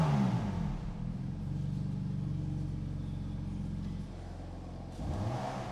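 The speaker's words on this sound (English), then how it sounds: "I'll put the car into Sport Plus to open up the flaps and exhaust." A deep, rumbling exhaust from a BMW M4 Competition (G82) in Sport Plus mode with flaps open revs up, holds a steady growl, dips briefly, then swells again, close and fairly loud with no talking.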